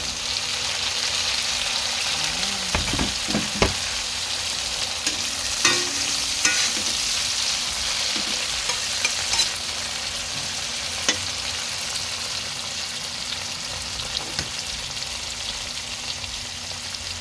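Chopped tomato sautéing with golden-browned garlic in a hot pan for ginisang monggo, a steady soft sizzle with occasional scrapes and clacks of a spatula stirring.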